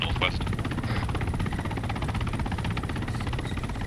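Military helicopters in a video game, a steady low rotor chop and engine drone running throughout under radio-style talk from players.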